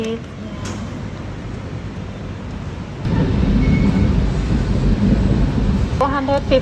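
Steady low rumble of a Bangkok MRT subway train in motion, growing louder partway through, with faint voices and brief clatter near the end.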